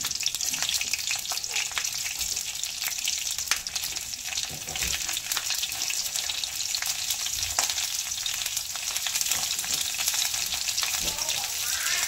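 Green chillies for thecha fry in hot oil with a steady, dense sizzle and crackle, stirred now and then, continuous and close, with no talk over it.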